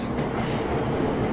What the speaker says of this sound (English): welcome to a train station in Tokyo